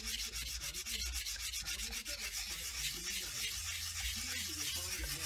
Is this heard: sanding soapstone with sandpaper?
yes